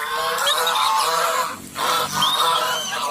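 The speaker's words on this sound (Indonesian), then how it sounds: "Bebek angsa teman-teman." Geese honk loudly and close, with repeated nasal calls over about three seconds and a brief dip in the middle, no speech in between.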